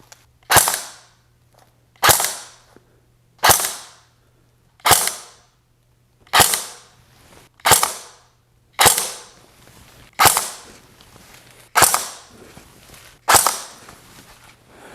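An APS Phantom Extremis Mark II airsoft rifle with a Silver Edge V2 gearbox fires ten single shots of 0.2 gram BBs, each a sharp snapping crack spaced evenly about one and a half seconds apart, close and loud with no talking.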